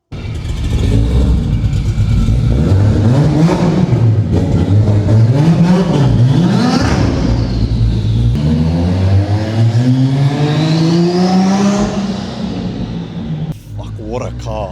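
Nissan R33 GTR engine revving hard in a workshop, rising and falling in pitch through several pulls, loud and close with a rumbling note, while people talk over it.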